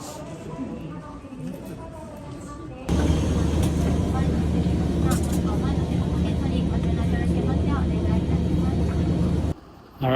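Steady, loud broadband roar of an airliner in flight on a domestic route in Japan, beginning abruptly after a quieter stretch and holding constant for several seconds before dropping off.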